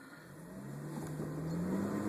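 A 2012 Camaro V6 rental accelerating with traction control on, its engine drone rising steadily in pitch and growing gradually louder over a couple of seconds, heard from inside the car.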